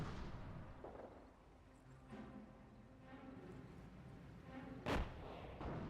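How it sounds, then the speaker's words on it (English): An incendiary trap fires in the Company of Heroes strategy game, one sharp blast near the end standing out over faint, distant battle rumble. "I heard an incendiary trap somewhere"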